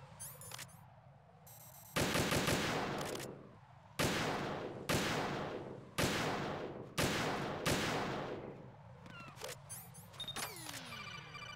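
Rapid gunfire in Metal Gear Solid 2 Substance comes as loud, regular bursts about every second, each with a sharp attack and a decaying tail, set against quieter mechanical background sounds.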